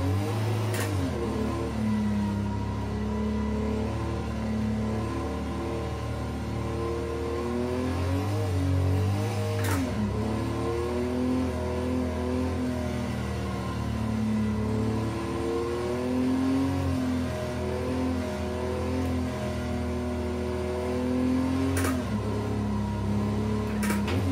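A racing video game's car engine plays through a motion simulator rig, its synthetic engine note rising and falling repeatedly as the virtual car is driven hard through quick turns, continuous and fairly loud.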